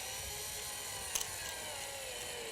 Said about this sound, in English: This is weird drilling into the foot